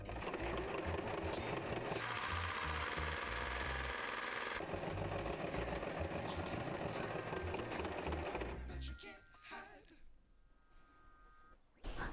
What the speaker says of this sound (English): Now we sew again.